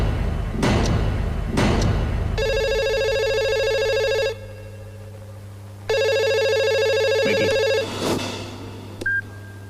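A telephone rings in two long electronic bursts separated by a pause, with a couple of thumps before and a clunk near the end.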